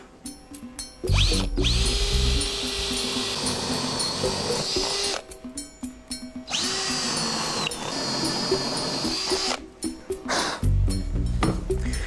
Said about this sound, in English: And then I need to drill the corners.